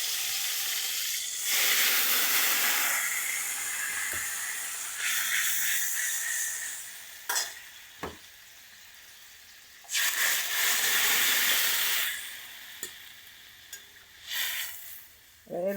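Radhuni spice paste sizzles loudly in hot oil as fish curry cooks, a strong continuous hiss broken by brief stirring clatters and short pauses.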